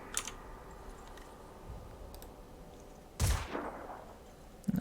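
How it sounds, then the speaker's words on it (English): Pistol fire in the video game Phoenix Point: a single sharp, booming shot rings out and decays after a stretch of faint clicking and quiet background. "we'll try to finish these off with pistols"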